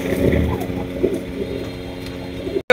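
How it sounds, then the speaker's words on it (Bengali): A pair of large Maltese pigeons cooing in soft, low, repeated throaty bursts close by, over a steady engine-like hum, ending in a sharp cut. "এখানে রয়েছে একজোড়া মাল্টেস কবুতর দেখতেই পাচ্ছেন"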